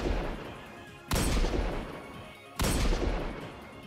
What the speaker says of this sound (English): Let's check out that firing animation.